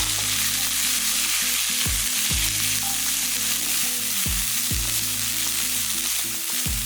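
Coconut, ginger and garlic fry in a pan for chicken kola urundai kuzhambu, a loud, continuous close sizzle with stirring and a low steady tonal hum running underneath, no voices.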